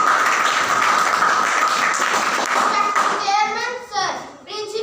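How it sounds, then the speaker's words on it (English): Schoolchildren at a school assembly applauding a classmate, a dense wash of clapping for several seconds that breaks up into children's voices as it fades. "Clap for Nikhil"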